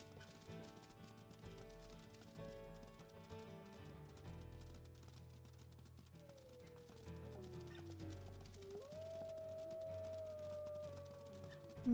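Wolves howl in the video game WolfQuest, several long, wavering, rising and falling howls overlapping at a moderate distance over a low ambient game background.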